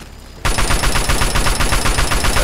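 Machine gun in the video game Fallout 3 firing a sustained automatic burst, loud rapid evenly spaced shots that start abruptly after a moment of quiet and continue to the end.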